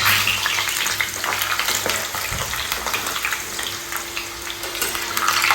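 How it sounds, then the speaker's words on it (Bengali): Potatoes frying in hot oil with cinnamon tempering: steady close sizzling and crackling with occasional bubbling and stirring scrapes, no talking. "দালচিনি ফোড়ন দিয়ে আলুটাকে ভালো করে লাল করে ভাজবো।"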